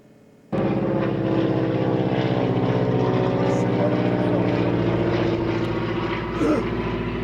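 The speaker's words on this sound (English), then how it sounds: "Could it be an airplane?" A propeller airplane drones steadily overhead, its engine tone starting abruptly and holding loud and constant near a 1995 Canadian fishing trip spot, with a brief swell near the end.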